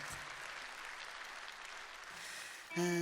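Audience applause for dancers at a solo song concert, a steady wash of clapping from a large crowd throughout, with a brief louder tonal burst of music or voice at the very end.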